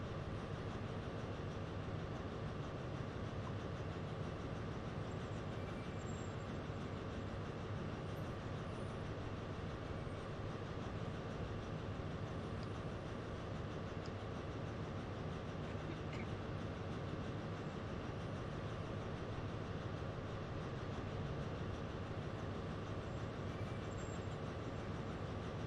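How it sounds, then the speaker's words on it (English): A simulated train at Derby on the Midland Main Line in Train Simulator 2020 gives a steady, continuous rumble of wheels and rail noise that holds at an even level throughout. No one talks. "the partner now is the 1644 cross-country service to Glasgow Central from Plymouth"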